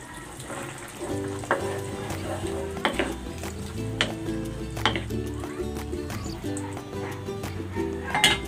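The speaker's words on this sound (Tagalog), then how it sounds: "Ilalagay ko na dito itong patatas at ang carrots." Potatoes and carrots tipped into ground meat frying in a pan give a steady sizzle with scraping stir sounds and sharp clinks, over faint background noise and voices.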